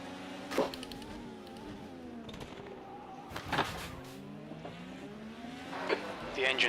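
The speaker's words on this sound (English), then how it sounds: "That engine doesn't sound right, mate." A failing Indycar engine in a racing game at Laguna Seca whines and rises through gears under a rough, strained tone, with brief harsh bursts and a voice talking over it.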